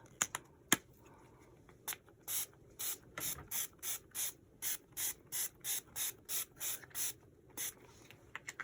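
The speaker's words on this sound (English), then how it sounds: "Let's see how it'll take these sprays on the inside and if they'll dry fairly quickly" Walnut gold spray paint hisses onto a mixed media book cover in a run of short, even bursts, about a dozen quick spritzes in steady rhythm after a few scattered clicks.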